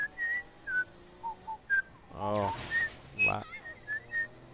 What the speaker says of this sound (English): Loud whistling.